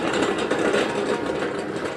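BMW E92 M3 exhaust idling up close: a steady, even, broadband drone with a slight rough flutter and no change in pitch across the short stretch.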